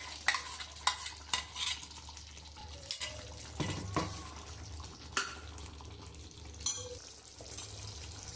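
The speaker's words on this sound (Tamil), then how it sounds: "இப்போ நம்ம அரைச்சி வச்ச பேஸ்ட்டை இதில் போட்டுக்குவோம்." A ground paste is stirred into cooked brinjal in a Tamil Nadu style curry, with quiet scraping and clinking of a spoon against the pan in irregular strokes over a faint sizzle.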